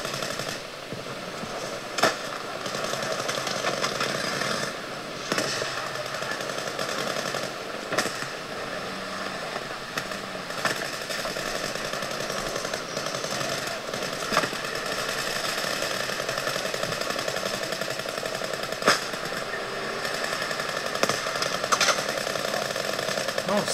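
Continuous gunfire in Battlefield V, dense rattling automatic shots mixed with distant bursts and ambient battle noise throughout, with someone talking over it.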